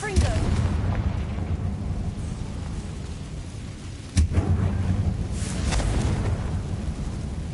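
A Confringo fire spell explodes in the game Hogwarts Legacy with a sharp blast near the middle, set against a steady rumbling, roaring backdrop of game ambience.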